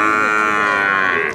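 A Friesian bull calf about five to six months old at a cattle market in Pabna gives one loud, close, sustained moo that tapers off at the end.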